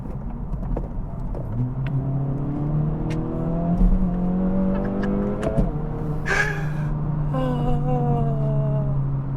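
An Acura Integra Type S engine hums from inside the car, a steady drone that rises in pitch as it accelerates, with a brief clunk partway through and gear-change dips, no talk.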